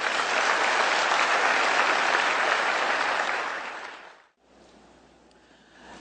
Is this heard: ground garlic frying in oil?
no